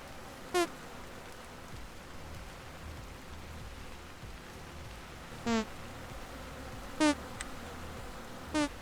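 Bees in the survival game Vintage Story give brief buzzing bursts, four short faint buzzes spaced irregularly over a steady low hiss of rain-like ambient noise, with no talking.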